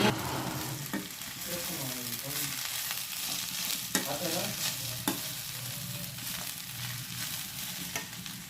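Soaked poha flakes being stirred into fried carrot and beetroot in a hot pan, with steady low sizzling and repeated scraping strokes of a spoon across the metal, close and continuous with no talk.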